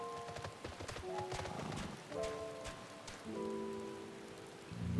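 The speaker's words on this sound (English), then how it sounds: "It's raining." Rain in Final Fantasy XIV: Endwalker patters steadily on a surface in a soft, continuous wash, with faint tonal background sounds underneath and no voices.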